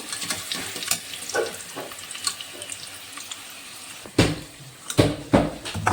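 Potatoes fry in a pan with a soft, steady sizzle, punctuated by louder clattering scrapes and stirring knocks toward the end, with no one speaking.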